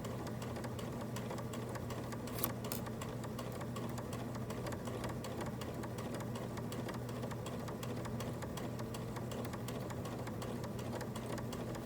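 A sewing machine stitches fabric in a steady, continuous mechanical hum with a fast regular rhythm, close and even throughout, with one brief click partway through.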